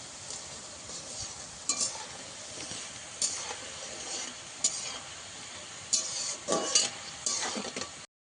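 Nimki fry in oil over very low heat, stirred now and then. A faint, steady hiss is broken by a few short scraping and bubbling bursts, with no talking.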